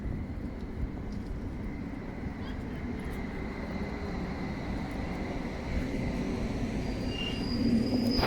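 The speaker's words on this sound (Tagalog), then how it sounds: "Ay nako, ayan na yung train." A train pulls into a station in the Czech Republic with a steady low rumble of wheels and engine, close and continuous, and a faint squeal near the end.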